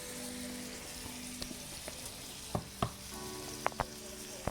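A salmon fillet pan-searing gives a quiet, steady sizzle and light crackle, with a few sharp clicks and taps of the pan or utensil near the end.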